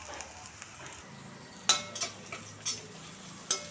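Dried chillies, curry leaves, asafoetida and turmeric fry in a pan, a faint low sizzle broken by several sharp spatula scrapes and clinks against the pan.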